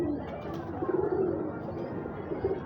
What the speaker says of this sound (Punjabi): ਇਹ ਤੁਸੀਂ ਕਬੂਤਰ ਦਾ ਪਰ ਕੁੰਦਾ ਵੇਖਣਾ, ਤੁਹਾਨੂੰ ਨਸ਼ਾ ਹੋ ਗੋਲਡਨ ਕਬੂਤਰ ਮਾਸ਼ਾਅੱਲਾ।